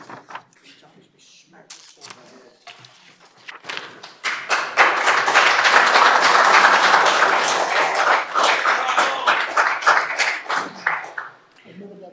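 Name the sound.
applause for city manager's speech at council meeting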